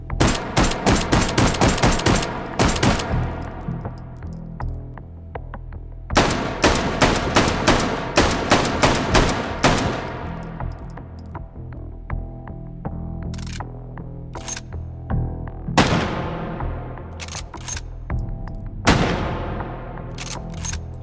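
World War I era firearms firing in the VR shooter H3VR: loud bursts of rapid shots alternate with single cracks that ring out into decaying echoes, spread in separate groups with short quiet gaps between.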